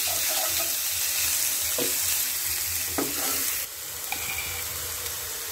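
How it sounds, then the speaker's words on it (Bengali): Chicken frying in a pan over a low flame, a steady broadband sizzle with occasional stirring scrapes and clicks, close and continuous. "তো বন্ধুরা এই যে দেখুন আমি এবার এটাকে একটু ভেজে নিচ্ছি"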